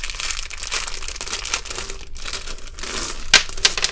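Plastic packaging holding pastel beads crinkles and crackles up close in continuous irregular bursts as it is handled and opened, with a few sharper snaps near the end.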